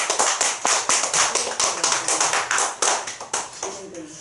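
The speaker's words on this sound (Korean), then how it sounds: "입으로는 할렐루야, 손은 박수." A church congregation at a revival meeting claps hands in a steady rhythmic beat, about three claps per second, loud and close, with voices joining in under the claps.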